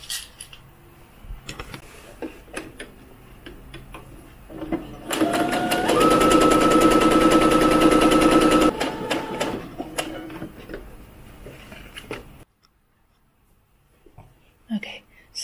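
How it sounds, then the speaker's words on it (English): A sewing machine stitches a maxi dress for an American Girl doll, whirring in short bursts before a loud, sustained run in the middle, then stopping abruptly into near silence. "now we're going to sew from the bottom edge all the way up, around the neck hole, and back down again"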